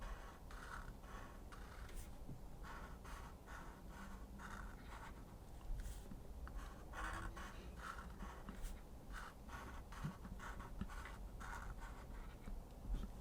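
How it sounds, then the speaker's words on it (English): Pencil or pen drawing a zigzag line on paper for a sketch of a Nutcracker soldier, a faint, steady run of short scratchy strokes in quick rhythm, close up and quiet throughout. "So starting over here, I'm going to draw a little zigzag line."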